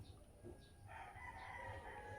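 A rooster crows faintly in the distance, one drawn-out call over a steady low background hum.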